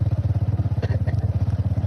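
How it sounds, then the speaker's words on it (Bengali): Motorcycle engine on a road, a steady low pulsing idle-like thrum with rapid regular beats throughout, moderately close, with a brief faint clatter midway. "আজকে কিন্তু বাইকের লাইভ হচ্ছে"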